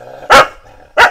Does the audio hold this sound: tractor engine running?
no